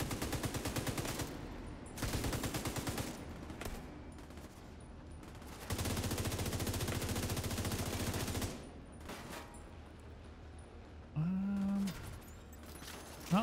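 Gunfire from The Division 2 video game comes in long automatic bursts separated by short pauses, loud and close, with a brief mechanical whine near the end and no talking.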